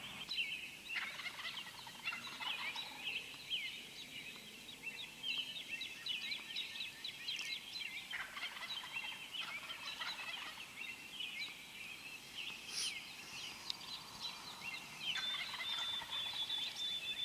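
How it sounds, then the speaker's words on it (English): Repeated gobbling calls from turkeys, several birds overlapping in bursts, moderately distant over a soft background hiss. "These birds will not shut up at this point."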